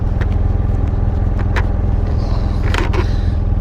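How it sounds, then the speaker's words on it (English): A steady roar of wind buffeting a noisy windshield on a BMW F800GSA motorcycle while riding, constant and close with a low engine drone underneath. "Sorry, that shield's noisy."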